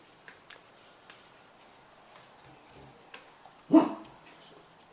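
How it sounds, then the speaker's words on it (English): One short, faint bark sounds from a distance against a quiet background, with light ticking noises scattered around it. "Is that your doggy?"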